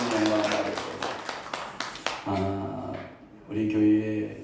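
A Korean church congregation at a Sunday worship service claps for about two seconds, a dense patter of claps mixed with voices and a tonal background, followed by speech alone.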